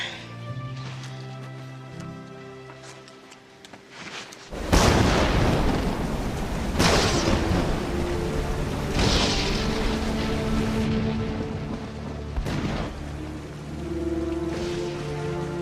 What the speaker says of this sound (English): It's a terrible storm.